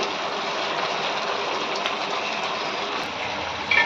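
Chicken meat simmers in a covered cooking pot, giving off its own water as it boils, with a steady, dense bubbling hiss that runs unbroken at an even level.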